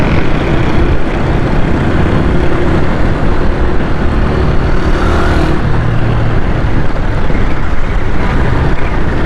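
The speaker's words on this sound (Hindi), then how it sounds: "बहुत इधर तो तेज़ हवा चल रही है यार" Strong wind roars continuously and loudly against the microphone, a steady rushing buffet with no pause.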